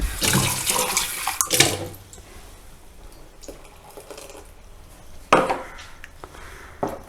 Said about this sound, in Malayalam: ഈ ജാറൊന്ന് കഴുകി കുറച്ച് വെള്ളം കൂടി ഒഴിക്കാം